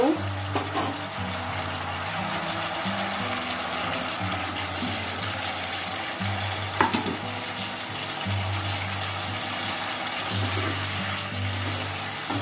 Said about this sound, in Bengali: আলুটা দিয়ে আরেকটু ভাজা ভাজা করে নেব।